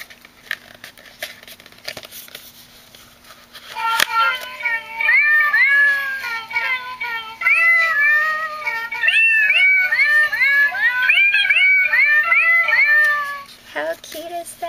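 An opened musical greeting card plays a recorded cat meowing: after a soft paper crinkle, a rapid series of repeated, tinny meows sounds close and clear for about ten seconds, then stops with more handling noise.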